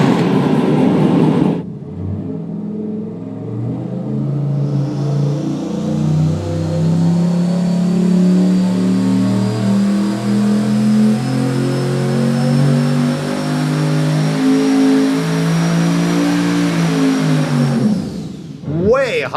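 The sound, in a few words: engine running on dyno without charge cooling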